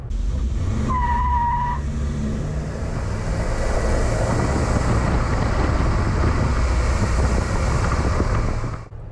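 A 1975 Cadillac Sedan DeVille accelerates from inside the cabin with a loud, sustained engine roar and rising whine, with heavy road and wind noise and no talking.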